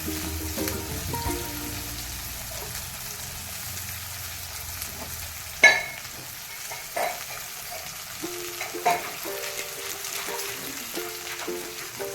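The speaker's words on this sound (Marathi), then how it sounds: "तेल चांगलं गरम होऊ दे, तर नंतरच मिरची टाकायची त्याच्यात घेतलेली" Green chillies frying in hot oil in a home kitchen, a soft steady sizzle with a few sharp clinks and stirring knocks scattered through it.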